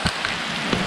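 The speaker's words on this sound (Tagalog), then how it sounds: "Bumuhos na talaga ang ulan." Heavy rain pours down at a campsite in Tanay, Rizal, making a dense, steady hiss with a few louder drop impacts over a brief moment.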